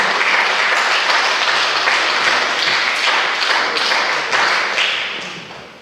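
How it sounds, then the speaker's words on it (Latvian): An audience applauds at a birthday concert in the Kārsava culture house: dense, sustained clapping from a large crowd, loud and close, holding steady for several seconds before tapering off at the end. "Aplausus, Inta."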